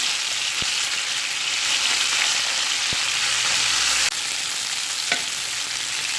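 A tadka of ginger, garlic and red chili paste sizzles steadily in hot oil for mustard greens saag, a loud, continuous frying hiss with a few faint clinks of a spoon stirring and no talk.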